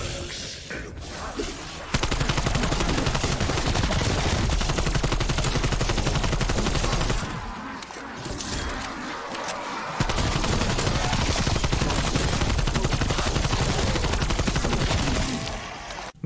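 Sustained automatic fire from an AK-74 in the video game Black Ops Cold War Zombies, with long, loud, continuous bursts broken by a brief pause near the middle.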